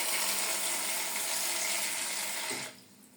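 Cold water runs steadily from a tap to rinse laundry, a constant hiss that cuts off abruptly near the end.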